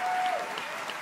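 Audience applause at the YouTube Streamy Awards 2022, a steady wash of clapping heard at moderate distance throughout.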